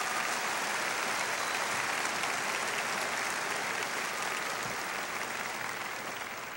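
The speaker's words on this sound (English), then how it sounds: "Let's give them all a big round of applause." Sustained, dense audience applause fills a high school graduation ceremony hall, steady and loud throughout with no voices standing out, tapering only slightly at the end.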